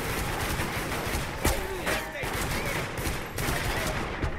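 Rapid bursts of gunfire from a video game shootout crackle continuously with sharper shots standing out, while players talk over the action.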